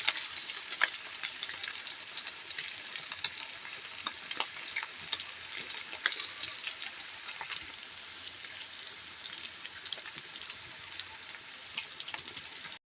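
Rice and lentil vadai fry in hot oil as a dense, steady sizzle with crackling pops throughout, close and even, with no talk.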